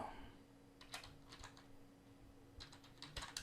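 Computer keyboard typing as a file name is entered, several short bursts of quick key clicks separated by pauses, close and fairly quiet over a steady low hum.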